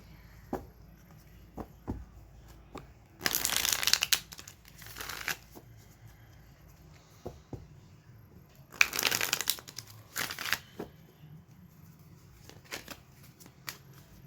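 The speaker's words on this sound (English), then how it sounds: "let's go ahead and pull some tarot cards now" Tarot cards are shuffled by hand in two loud riffling bursts, with softer taps and card handling between, close up and without talk.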